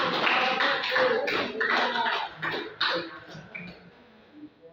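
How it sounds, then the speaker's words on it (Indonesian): A school class claps hands together after a student answers a question correctly, a brief burst of dense near clapping that thins out and tapers off within a few seconds. "Kasih tepuk tangan."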